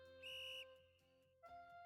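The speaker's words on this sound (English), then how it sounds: "The instructor blows a whistle to signal the start" An instructor blows a whistle to signal the start: one loud, clear blast lasting about half a second, followed by a quieter steady hum and a short closing tone.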